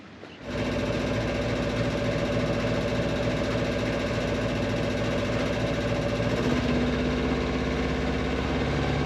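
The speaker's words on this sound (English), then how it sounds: "Time to get the engine started." A sailboat's engine starts up abruptly and settles into a steady, loud, low rumbling idle that runs without pause.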